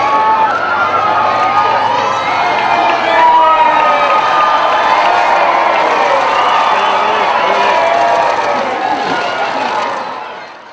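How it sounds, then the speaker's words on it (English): Large street crowd in York roaring and cheering as the Queen's car arrives, a dense, loud sustained wall of shouts, whoops and children's cries lasting throughout before easing off at the end. "a roar went up from the crowds as the Queen's car appeared from the direction of the Minster"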